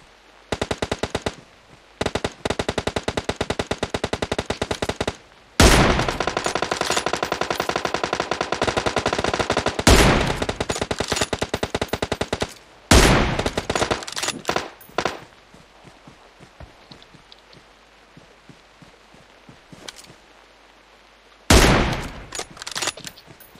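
Machine gun fire in the mobile game PUBG Mobile, near a BRDM armored vehicle, comes in loud sustained rattling bursts of several seconds each, separated by short gaps and a few quieter scattered shots.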